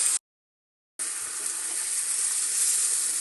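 Chicken sizzles in a pan of sautéed onions with masala powder, chilli powder and coriander powder for a chicken curry; a loud, steady frying hiss breaks off briefly, then resumes close and continuous.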